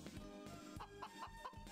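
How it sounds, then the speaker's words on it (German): Cartoon chickens from the farming video game Harvest Moon: Magical Melody cluck in a rapid, repeated run of short calls, near and fairly loud, with no talking. "Ihr verrückter Hühnerhaufen."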